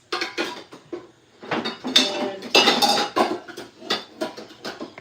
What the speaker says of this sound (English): Porque quero despachar esta louça daqui.